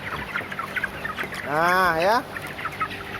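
A 29-day-old broiler chicken with a respiratory snoring condition gives a loud, drawn-out harmonic cluck close by during weighing, with someone speaking briefly beside it and other birds murmuring in the background.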